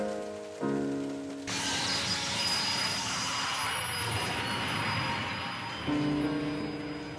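A freight train runs along the main line toward Aomori terminal, its rumble and rattling wheels on the rails continuous and fairly loud, with a brief horn-like tone at the start and again near the end.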